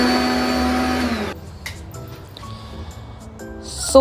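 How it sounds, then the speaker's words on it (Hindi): A kitchen mixer grinder jar whirs loudly as it grinds soaked fruit into a paste, running steadily for about a second before cutting off, followed by quieter clinks and handling sounds. "इसको मैं एक मिक्सर जार में अच्छे से ग्राइंड कर लूँगी, एक पेस्ट लाइक का स्ट्रक्चर बना लूँगी।"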